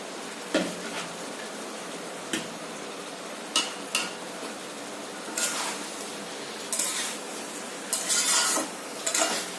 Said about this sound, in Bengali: এবার এই ভেজে রাখা মানকচু আর আলুগুলো এতে দিয়ে দেবো